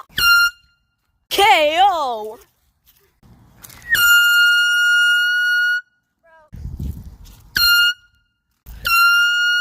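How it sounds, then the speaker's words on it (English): Air horns honked at neighbors, a few long loud blasts with rich steady tones, cut between by a warbling squeal and bits of shouting and talk. "I'm gonna honk air horns at those neighbors over there."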